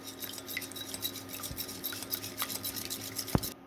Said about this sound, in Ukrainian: два яйця збиваю з дрібкою солі, підбиваю вінчиком